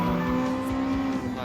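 A car drifting in the racing game Gran Turismo 7 gives a sustained tire squeal over a loud, steady engine tone, close and continuous for a brief moment.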